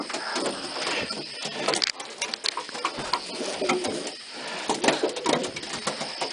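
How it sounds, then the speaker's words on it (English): Pigeons cooing and rustling close by in a loft during treatment for mites, a busy overlapping mix of low coos, flutters and scratchy movement with no talk. "Lots of pigeons."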